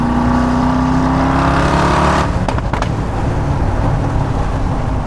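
A tuned Mercedes G-Class engine roars loudly and close, a sustained throaty drone that swells and then breaks into sharp crackling pops before settling into a rough idle rumble.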